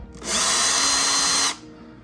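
A power drill whirs briefly to back a screw out of a GoldenEar Triton 2 speaker's amplifier, one close, steady high-pitched spin lasting just over a second before it stops.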